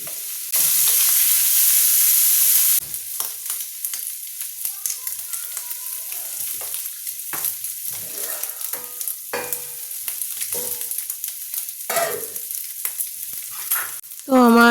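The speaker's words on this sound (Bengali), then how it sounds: "এখন এর উপরে আমি ধনেপাতাটা দিয়ে দেবো আর অল্প একটু নাড়াচাড়া করে নেব।" Dried shrimp fry in a pan with a loud burst of sizzling at first, followed by continual scraping and clinking as fresh coriander leaves are stirred through, with light frying crackle underneath.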